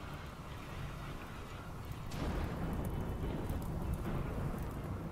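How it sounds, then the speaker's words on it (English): Rain begins falling in the RimWorld video game, a soft broadband hiss that swells noticeably about two seconds in and then holds steady and fairly faint. "All right, the rain started, so that should put fires out."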